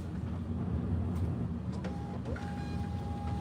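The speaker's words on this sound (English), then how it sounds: "This printer is slow." Printer running continuously with a low rumbling drone, a steady thin whine appearing partway through, and faint mechanical clicks, close and unbroken with no talking.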